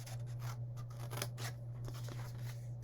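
Paper cut with scissors up to a score line during a card-making session, a series of soft snipping strokes close by over a steady low hum, with no talk.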